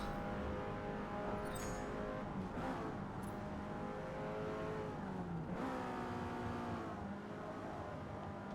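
A race car engine in the Forza racing game revs and climbs through the gears, its harmonic whine sweeping up and dropping at each shift, loud and continuous with a brief tyre squeal.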